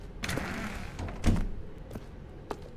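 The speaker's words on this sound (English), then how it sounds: "Stanley walked through the red door." A door opening in the video game The Stanley Parable, heard as a couple of soft, muffled thuds and a brief creak over a quiet room tone, with no speech.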